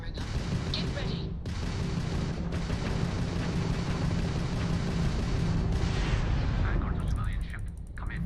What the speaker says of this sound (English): The ship's weapons are powering up.